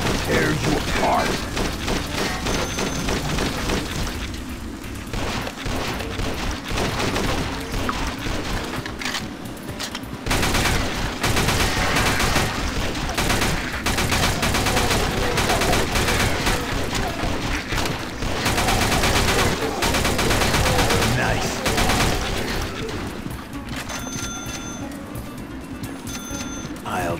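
An MP40 submachine gun fires rapid bursts in the video game Dead Trigger 2, loud dense rattling volleys almost without pause over nearly half a minute, with brief lulls between strings of shots.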